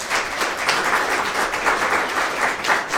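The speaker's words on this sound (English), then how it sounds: "let's give a warm round of applause" An audience at a media conference applauds, with dense, steady clapping from many people that stays loud and even throughout and has no voices over it.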